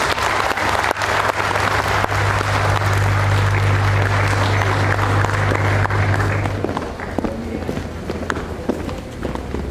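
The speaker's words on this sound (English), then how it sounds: "Let's give him a round of applause." Audience applause for a speaker being welcomed to the front, loud dense clapping from a crowd with a steady low hum underneath that stops partway, then the clapping carries on more thinly.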